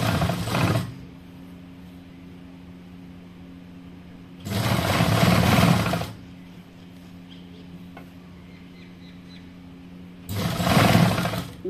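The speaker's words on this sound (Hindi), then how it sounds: "यहाँ पे कंधा पट्टी रख के इसको भी सिल देंगे।" A sewing machine stitching the shoulder seam of a kurti runs in three loud, coarse bursts of a second or two each, separated by quieter stretches with a faint steady hum.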